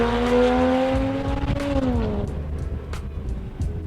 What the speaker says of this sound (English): This car has a full Top Gear stainless steel valved exhaust system fitted to the car.